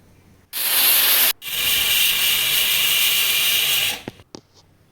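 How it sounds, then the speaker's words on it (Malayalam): Half a coconut is scraped against a grater while preparing a vegetable kurma, giving a steady, close, rasping scrape that runs for about three seconds with a short break near the start, then stops abruptly. "ഒരു തേങ്ങയുടെ അരമുറി ചിരവിയെടുക്കാം"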